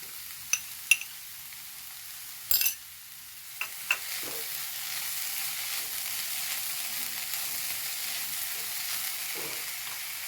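Ginger and garlic dropped into a hot pan for a chicken roll filling: a few clinks and a stirring scrape at the start, then a steady close sizzle of frying that runs on to the end, with no talking.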